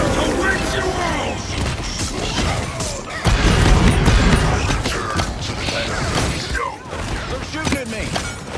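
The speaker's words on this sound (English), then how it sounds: "They're shooting at me" Dense gunfire in a Paladins Siege match playing Androxus: rapid overlapping shots, booms and impact crashes that run continuously and loudly, with a heavier burst near the middle and game voices mixed in.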